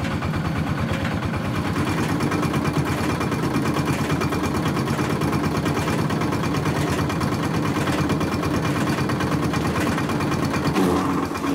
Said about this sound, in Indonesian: Mesin yang Anda lihat ini bernama mesin detintifikator.